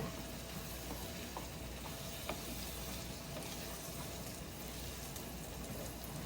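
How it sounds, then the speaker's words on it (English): Tomato sauce for vegetarian spaghetti simmering in a pan, a steady soft bubbling sizzle with faint scattered pops, quiet and continuous without talk. "the tomato sauce, it just starts to pop"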